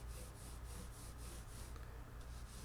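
A gray Scotch-Brite pad rubs across guitar frets during a neck reset, giving a steady, close abrasive scrubbing in rhythmic back-and-forth strokes that continue without pause.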